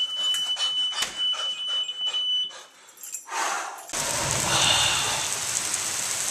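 Steady rain falls on outdoor surfaces, first light and patchy, then swelling into a loud, dense hiss of heavy rainfall nearby.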